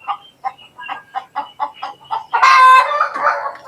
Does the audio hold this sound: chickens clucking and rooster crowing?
yes